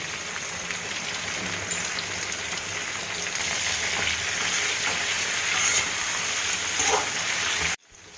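Vegetables, including potato and spiny gourd, sizzle and fry steadily in a pan with a dense, crackling hiss, before the sound cuts off abruptly near the end.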